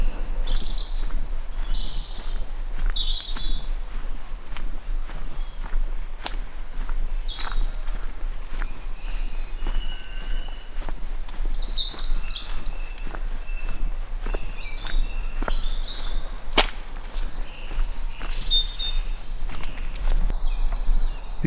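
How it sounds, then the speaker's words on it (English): Birds chirp and sing in scattered phrases over steady footsteps crunching along an outdoor path. "Listen to the bird song."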